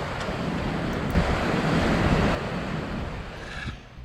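Ocean waves and surf breaking at low tide under Lorne Pier, a continuous loud wash mixed with wind buffeting the microphone, no voices.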